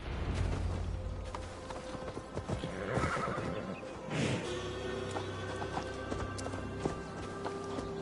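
A horse in a PS4 game set in the untamed forests of Gloucestershire clip-clops steadily and neighs sharply twice near the middle, with a low ambient drone and a faint voice in the background.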